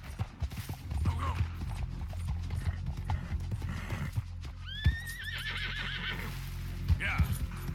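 Hoofbeats of a galloping horse in the Red Dead Redemption 2 video game pound steadily under game sound, broken by a whinny near the middle and another neigh toward the end; a voice is heard in the background.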